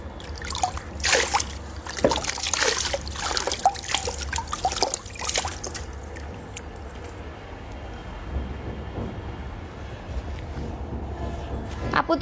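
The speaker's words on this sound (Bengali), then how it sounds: "আমি একটু ফেসটা ধুয়ে নিই" Water splashes and trickles as someone washes their face, with uneven bursts of splashing and dripping early on that settle into a quieter running trickle, fairly close and moderately soft.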